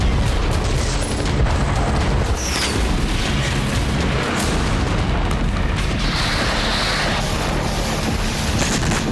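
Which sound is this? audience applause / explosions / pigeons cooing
explosions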